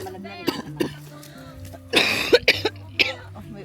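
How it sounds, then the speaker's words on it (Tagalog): Several sharp coughs and a throat clearing, close and fairly loud, with a burst of breathy noise in the middle and low voices murmuring underneath. "May ubo pa, mong sound effect."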